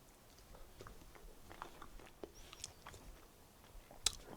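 Quiet, close chewing of a raw garlic clove, with soft irregular crunches and bites that grow slightly sharper toward the end, with no one talking.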